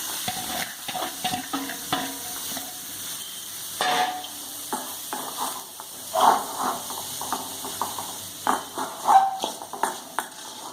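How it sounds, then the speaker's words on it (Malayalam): Chopped bilimbi goes into a hot pan of oil with asafoetida and fenugreek powder for pickle, giving an uneven series of close clattering stirs and scrapes over a light sizzle. "എന്നിട്ട് അതിലേക്ക് നമ്മൾ ഈ അരിഞ്ഞു വെച്ചിരിക്കുന്ന ഇരുമ്പൻ പുളി ഇടാം"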